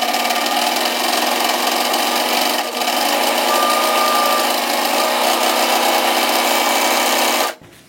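A serger overlocks the crotch and side seams on the front and back of a garment, running loud and steady with a fast, even whir almost the whole time, then stopping abruptly at the end.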